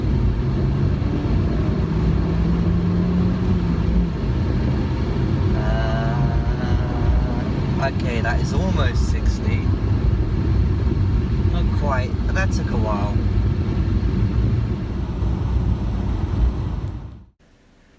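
Fiat 500 engine and road noise from inside the moving car, a steady drone with a brief rise of revving during acceleration, under occasional faint talk, cutting off abruptly.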